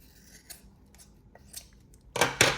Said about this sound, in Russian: я все вот это самое крупное сначала обрезаю большими ножницами